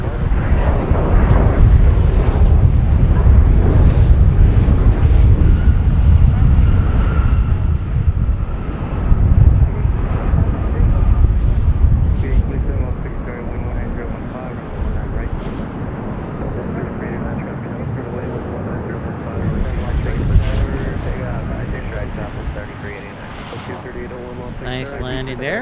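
A Gulfstream jet lands at Las Vegas in a strong crosswind, its loud engine roar rumbling near and then gradually fading, with talking and radio chatter mixed in.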